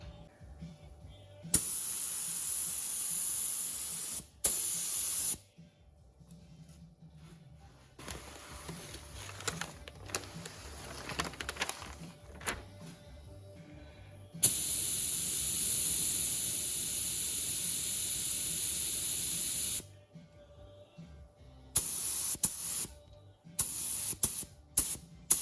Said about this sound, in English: Turns out I've got lots of paint because I'm using such a small spray gun